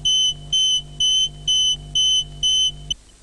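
Acoustic alarm of a railway hot bearing detector: six loud, identical electronic tones pulse in an even on-off rhythm about twice a second, then cut off abruptly.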